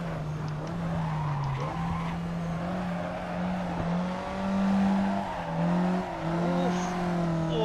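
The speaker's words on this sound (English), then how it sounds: "Oh, that could have been a full corner drift." A race car drifts through a corner in a racing video game, its tires squealing in a sustained wavering whine over a steady engine drone that swells and eases.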